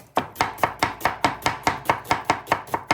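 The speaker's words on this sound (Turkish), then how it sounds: "pratik ince ince doğruyoruz arkadaşlar" An onion is sliced thinly with a knife on a board, twelve or so crisp, evenly spaced chops in a steady quick rhythm, close and clear with no voices.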